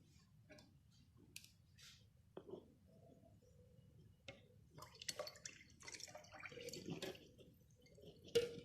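Blended mint leaves and water for a lemon mint mojito juice being strained through a sieve: faint, close trickling and dripping liquid with soft clicks and scrapes, growing busier toward the end.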